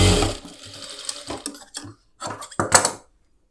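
Short, uneven runs of a sewing machine stitching a collar-neck blouse edge, mechanical clatter starting and stopping in brief bursts, close and fairly quiet with no talk.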